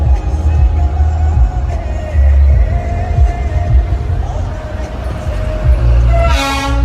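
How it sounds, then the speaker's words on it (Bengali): The Darjeeling toy train rumbles past with clattering wheels, and near the end a loud, bright whistle toots sharply close by. "পাশ থেকে টয় ট্রেন যাচ্ছে যে সামনে"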